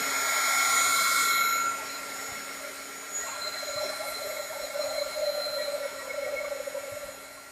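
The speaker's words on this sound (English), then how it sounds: "Now I'm going to just use my heat gun to try to move this along." Heat gun blowing hot air to dry watercolor paint, a close, steady whirring blow that drops in level partway through and then continues with a slightly shifting pitch, with no talk.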